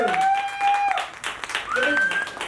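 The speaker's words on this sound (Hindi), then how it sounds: "पर अंशु के लिए जोरदार तालियां हो जाए।" Guests at a 25th anniversary celebration clap for Anshu, the applause mixed with high, sliding cheers or whistles and voices over it.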